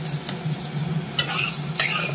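Spiced radish filling for paratha being stirred in a wok, a steady sizzle with scraping strokes, two sharper stirs standing out near the end, close and alone.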